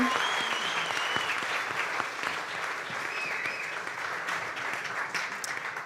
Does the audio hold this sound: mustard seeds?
no